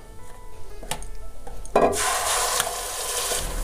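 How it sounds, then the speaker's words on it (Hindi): Gravy hits a hot pan with a sudden loud sizzle midway, following soft scraping and stirring, then keeps frying steadily up close. "अब ग्रेवी को इसमें ऐड कर देते हैं।"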